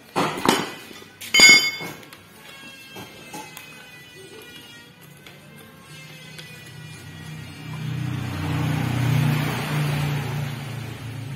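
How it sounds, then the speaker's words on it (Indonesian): Chisel struck with a hammer to dismantle steering parts on a Suzuki Katana car: a few sharp metallic clinks and knocks up close, then a low rumbling hum building toward the end. "Biasanya kami hanya menggunakan pahat ke sini."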